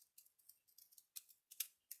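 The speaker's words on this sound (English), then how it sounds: "I'm going to cut off this bottom part." Scissors snip through a playing card with about a dozen quick, crisp cuts in an irregular rhythm, close and faint, with no voices.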